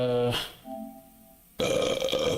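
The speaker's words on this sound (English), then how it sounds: "ooh, that's a good burp." A single loud, close burp with a low, rough voiced tone, followed by a short pause and then a person talking.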